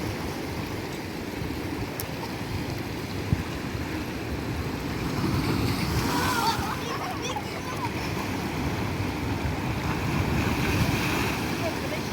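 Black Sea waves rolling against a pier in Odesa, a steady broad wash of surf with wind rumble, fairly loud and continuous, swelling a little stronger in the second half, with no clear talk over it.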